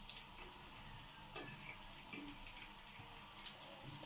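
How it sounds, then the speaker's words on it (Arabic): Onions frying in ghee in a pan, a steady faint sizzle with occasional soft stirring scrapes and clicks, no talking. "ونقوم حاطين بقى البصل."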